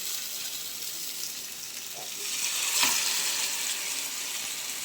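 Spice-coated fish sizzles in hot oil, a steady close hiss that swells slightly midway and stays level throughout, with no talking.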